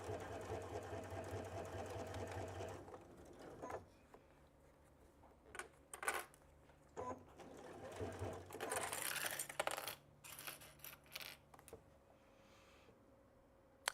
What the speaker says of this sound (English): And we're just stitching all the way down.